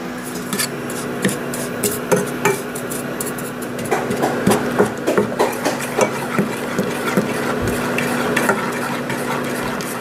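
Sugar is being stirred into a syrup in a pan for a pineapple filling, with repeated scraping strokes of a utensil against the pan that come close and keep a loose, steady rhythm.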